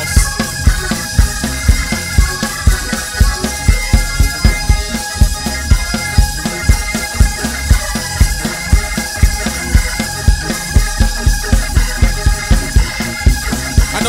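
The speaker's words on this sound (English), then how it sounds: "Come on, clap your hands." A church congregation claps hands together in a fast steady rhythm, loud dense claps in a Pentecostal service with music and crowd sound continuing underneath.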